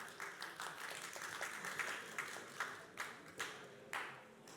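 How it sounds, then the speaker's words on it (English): Applause from an auction room audience rises after a sale, a moderate patter of clapping that carries on steadily and then tapers off with a few final claps. "And thank you for the round of applause."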